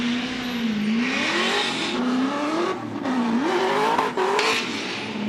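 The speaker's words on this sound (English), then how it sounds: "The Nexon tires getting lit up." A drift car on Nexen tires at a qualifying session, its engine revving in rising and falling waves under continuous loud tire squeal as the wheels spin and slide, close and sustained.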